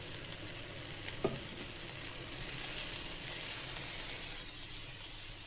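Snow peas, chilies, beans and capsicum sizzling in a hot pan for a beef stir fry, a constant bright hiss with one sharp clack of a utensil early on, close and steady.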